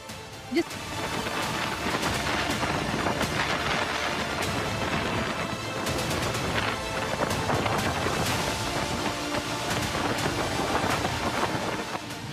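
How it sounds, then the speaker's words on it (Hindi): Strong wind and rain sweep over a stormy sea off the Amreli coast, a dense continuous roar with scattered gusts and spatters holding at one level the whole time. "अमरेली में तेज हवाओं और बारिश के कारण समंदर तूफानी हो गया"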